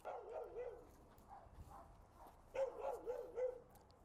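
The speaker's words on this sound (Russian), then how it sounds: "Собака пройдет вокруг нас и проверит, есть ли у нас незаконные средства." A customs sniffer dog gives a few faint, scattered barks and yips, with short pauses between them.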